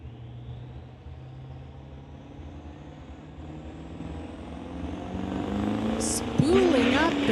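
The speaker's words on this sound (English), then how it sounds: "Spooling up the big bad diesel and rolling coal down the track" A 2006 GMC Sierra diesel truck racing at a drag strip builds a rising engine roar that swells toward the end, with a commentator talking over it.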